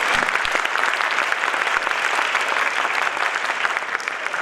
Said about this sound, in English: A big applause for the volunteers